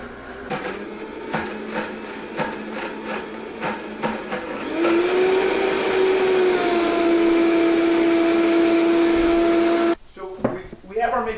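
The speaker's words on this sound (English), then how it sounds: "So now we have our mix in our Vitamix or blender, and what we're going to do is we're going to start it up." A Vitamix blender spins up on pesto for zucchini noodles. A few clicks and knocks come first, then the motor rises to a loud steady whine that holds for several seconds before cutting off into a few handling clatters.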